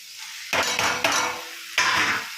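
Tomato pieces dropped into a pan of softened onions for a dried fish and egg curry, then stirred, with close scraping and clattering of a spoon against the pan in two bursts.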